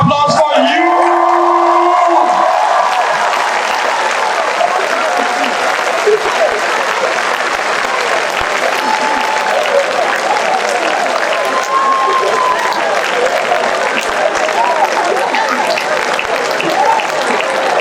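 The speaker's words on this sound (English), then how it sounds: "a round of applause for you" Audience applause at a professional accounting exams induction ceremony, a steady sustained crowd clapping throughout with scattered cheers and a brief spoken voice at the very start.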